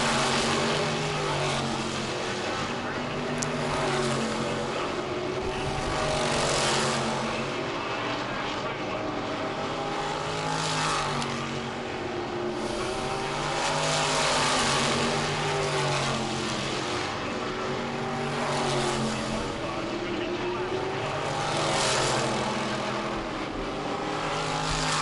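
Race cars on a track in a New England racing broadcast, engines droning and roaring loudly and steadily as the cars pass, while a commentator talks over the racing.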